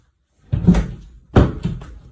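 A door shuts over a rolled towel draped across its frame, two soft muffled thumps about a second apart, close and dull, with no voices.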